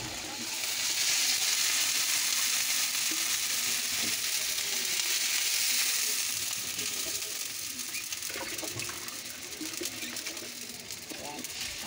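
Sautéed vegetables with mackerel sardines sizzle and bubble in a pan as a steady, close hiss with faint clinks, while a person talks over the cooking.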